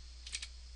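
A quick burst of typing on a computer keyboard, two or three light clicks close together, faint and isolated against a low steady hum.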